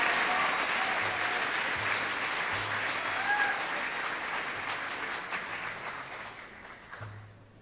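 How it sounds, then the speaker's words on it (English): Audience applause at a senior recognition ceremony for a medical career class of 2022, steady dense clapping from a crowd that gradually fades out, with faint tones in the hall. "Would you please give a round of applause to Mrs. Felsky's Medical Career Class of 202"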